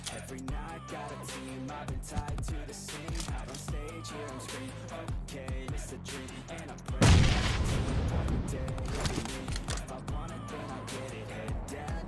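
Gunshots and headshot hits in PUBG during close combat against insolent enemies, including M24 sniper fire, sound as sharp repeated cracks over a steady game-music bed, with a loud boom near the middle followed by denser action.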